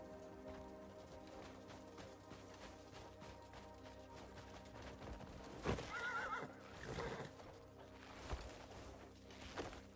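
Horse in a video game whinnies and neighs during a taming attempt, with hooves clopping over a steady background of game ambience and rain-like noise; no talking is heard.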